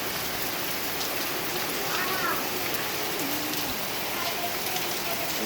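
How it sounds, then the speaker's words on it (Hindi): Heavy summer rain pouring down in Orissa, India, a dense, even hiss of drops on surfaces that holds steady throughout, with a voice speaking faintly beneath it. "बहुत जोर की बारिश हो रही है।"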